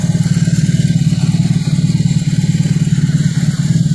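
A BMW R18 boxer motorcycle engine with slip-on exhaust idles steadily up close, a deep rhythmic throb with a soft mechanical clatter over it, no voices.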